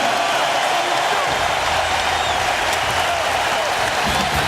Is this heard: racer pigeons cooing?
no